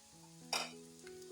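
Fried anchovies (teri) being stirred in a pan, a soft steady sizzle with one brief louder scrape-and-hiss of stirring in the middle, close and short, with no talk.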